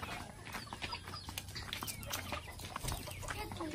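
Several chickens cluck and chatter in a steady, busy stream at moderate distance, with scattered bird calls over a low background rumble and no talk.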